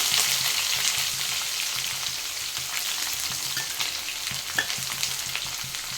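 Onion and garlic frying in hot oil for tomato gojju, a steady close sizzle and crackle throughout with faint intermittent stirring, no voices.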